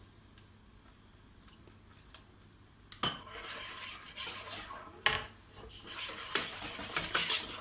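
A whisk beating cake batter in a bowl for a French Dalgona cake, starting faint and then becoming fast, scraping and clinking against the bowl in a continuous rhythm.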